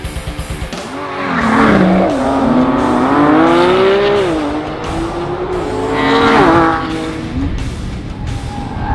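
A loud Nissan GT-R Track Edition twin-turbo V6 race car engine revs and climbs in pitch as it accelerates hard, with a brief tire squeal, dipping and surging again.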